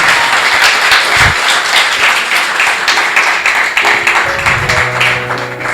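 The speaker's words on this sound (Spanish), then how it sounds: "Denle un aplauso a Él si usted entiende esta palabra." Church congregation applauding during a sermon, loud sustained clapping throughout, with tonal music or organ notes entering underneath in the second half.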